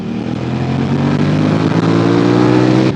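A 1999 Suzuki SV650S motorcycle fitted with a race exhaust and race air filter accelerates hard, its loud, close engine note rising steadily without a break.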